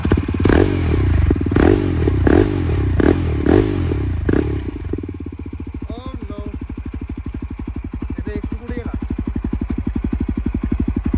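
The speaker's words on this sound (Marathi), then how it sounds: "आता आपण बघूया विदाउट डीबी किलर आपली HD ॲडव्हेंचर कशी साऊंड देते" A Yezdi Adventure motorcycle idles with its dB killer removed, a deep, loud, rapid exhaust thump close by; early on several sharp revs punch out over the idle, then a steady throbbing burble continues with faint voices.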